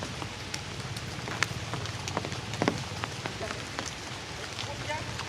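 Steady rain falls outdoors around a home with a pool and bamboo, a dense patter of drops hitting surfaces with scattered louder splashes and occasional faint voices in the background.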